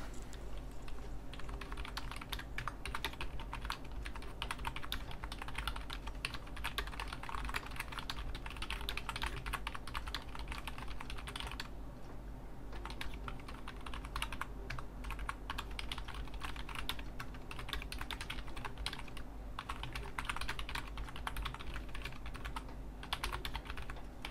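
Steady, rapid typing up close on a slim, quiet Subblim keyboard, a continuous stream of soft, quiet key clicks with no voices.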